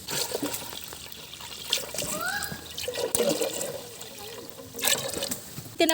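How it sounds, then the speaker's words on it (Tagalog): Water poured into a cooking pot for boiling kaong fruits, a steady splashing rush close by with clinks of the pot, and faint voices in the background. "Tapos, dadamihan namin ng tubig para mabilis siya maluto."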